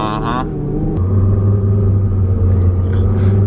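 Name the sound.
twin turbo car engine idling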